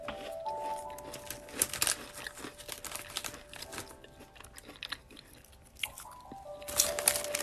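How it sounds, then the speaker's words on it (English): Chips are crunched while eating, giving crisp, irregular bite-and-chew crackles in bursts, close to the mic, with a bag crinkling and faint background tones. "But y'all can hear me crunch."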